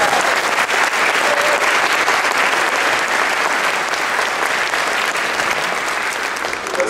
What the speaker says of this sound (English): Let's give the percussion section another round of applause.